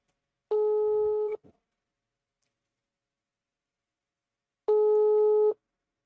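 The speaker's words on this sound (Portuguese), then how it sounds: "Chamando, vamos ver. Não atendeu, não." Two long electronic ringback tones from an unanswered phone call, each about a second, separated by a few seconds of silence; clear and steady with no voices.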